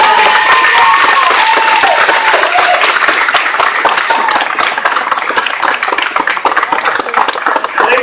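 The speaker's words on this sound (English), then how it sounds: "Ladies and gentlemen, give them a round of applause." A large rally crowd in Manchester applauds U.S. military veterans, with dense, loud clapping and some crowd noise that keeps going for several seconds and tapers slightly at the end.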